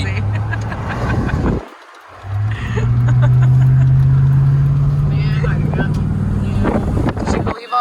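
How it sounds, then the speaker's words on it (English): Road traffic passes close by: vehicles swell and fade one after another, with tyre and engine noise, a brief near-silent gap and wind buffeting the microphone, while people talk over it. "Too much traffic."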